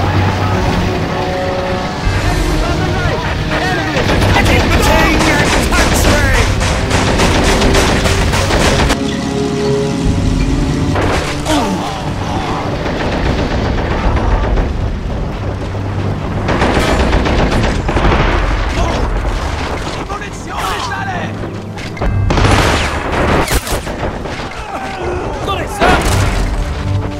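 Gunfire in the WWII strategy game Men of War: Assault Squad 2 during a British mission, with loud continuous volleys of rifle and machine-gun shots, booms and crashes over a dense battle din, with voices shouting throughout.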